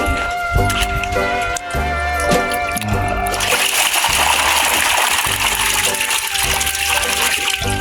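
Catfish fry dumped into a pond during sorting splash loudly into the water, a sudden gushing splash followed by continuous churning, close and sustained.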